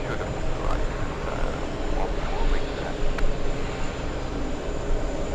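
An Emirates airliner at JFK airport gives off a steady, distant jet engine rumble and hiss under constant outdoor background noise, with occasional faint chirps and someone speaking softly.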